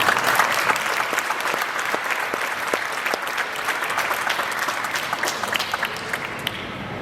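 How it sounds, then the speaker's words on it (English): A room full of people claps steadily and densely for an honoree at a military honors ceremony. The applause is loud, even and sustained throughout. "So, my applause for Ryan."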